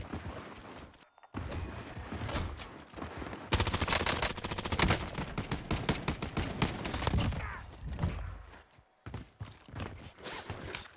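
Unsuppressed gunfire in Warzone, a Call of Duty battle royale, sounding as dense rapid bursts and fusillades that come and go across the stretch, loud and close, with brief gaps of near silence between volleys.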